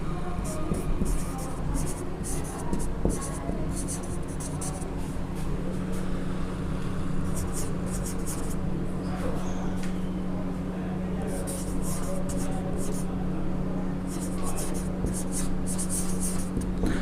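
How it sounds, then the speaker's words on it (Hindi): Chalk or marker writing a sentence on a classroom board during a grammar lesson, faint rhythmic scratching strokes in short bursts over a constant room hum, with some background voice. "और एक और लिखते हैं दूसरा सेंटेंस"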